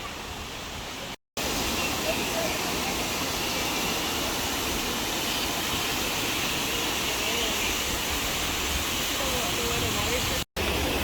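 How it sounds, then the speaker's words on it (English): Oregon's tallest waterfall roars as a steady, loud broadband rush of falling water close by, continuous apart from two very brief cuts to silence. "And it is the tallest waterfall in Oregon."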